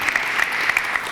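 Steady applause from a crowd at a press conference, a dense wash of clapping at even loudness with a few sharper individual claps standing out.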